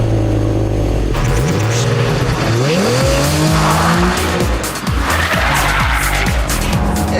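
A Nissan 350Z driven hard on a test track, its engine loud and close, revving up through the gears with shifting pitch sweeps and tyre squeal, without talk.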